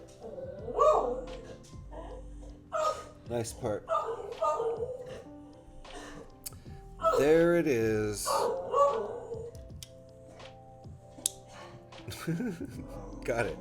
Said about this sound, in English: I think that was a dog because it sounded angry.